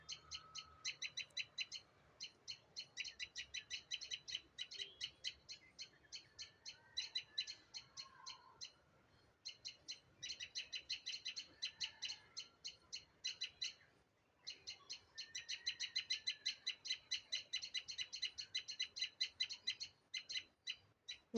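Two birds trade calls from a rose bush and a pomegranate tree, each call a fast burst of repeated high chirps, coming in bouts with short pauses, quiet but clear against a still background.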